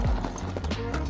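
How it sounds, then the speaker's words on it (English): A horse is walked along a street in a Thai beach town, its hooves clip-clopping close and loud over a steady rumble of street and traffic noise. "Man's walking horse"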